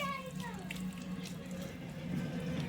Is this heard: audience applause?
no